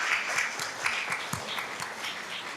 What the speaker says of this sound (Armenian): խնդրում եմ, որ բոլորս մի հատ ծափահարենք նրան